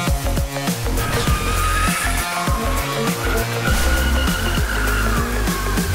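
A 2022 Subaru BRZ being drifted, its engine revving hard and rising and falling in pitch through gear changes, loud and close with a constant droning hum beneath.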